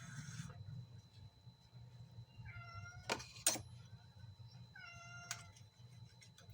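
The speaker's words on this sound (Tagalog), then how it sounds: "Nangihingi pa yung pusa ko." A pet cat meowing for food, with two clear, close meows a couple of seconds apart over quiet room noise and a few soft knocks.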